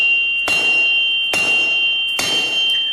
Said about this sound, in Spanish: los misteriosos martillazos que habían causado 3 motines e incontables vidas volvieron a dejarse sentir más fuerte que antes